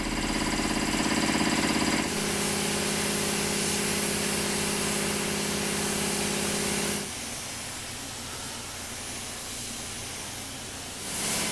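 A spray gun hisses steadily while orange primer goes onto the boiler of Soo Line 2719, a 4-6-2 Pacific steam locomotive under restoration. The loud, continuous air-driven spray runs through most of the stretch, dropping to a lower hiss near the end.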